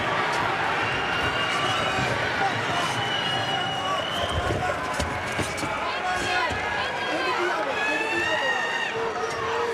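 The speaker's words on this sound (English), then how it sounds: "Crowd screaming for knees" An MMA arena crowd roars and screams steadily through a bantamweight title fight, a dense, unbroken wall of noise under a commentator's fast talk.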